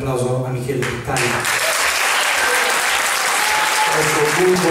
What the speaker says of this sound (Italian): Un bel applauso a Michele Pittani.